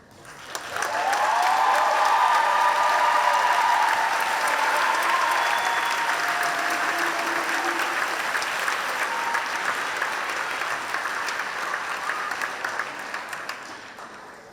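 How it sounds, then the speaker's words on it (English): A graduation ceremony audience breaks into loud, sustained applause for graduates standing in their places, a dense crowd clapping that holds steady for over ten seconds before easing slightly. "I would ask that all graduates now stand for an applause."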